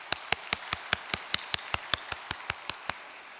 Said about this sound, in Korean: 감사의 박수 한번 올리겠습니다.